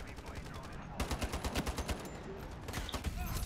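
Rapid bursts of SCAR-H rifle fire in the online shooter Ironsight, a dense rattling string of shots that starts about a second in, pauses, then resumes over constant game noise.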